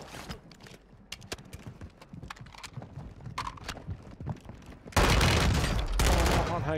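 Gunfire in Warzone 2 with an ISO 45 loadout, heard as sharp rapid bursts and single shots under faint game chatter, then a sudden loud dense fusillade filling the last stretch.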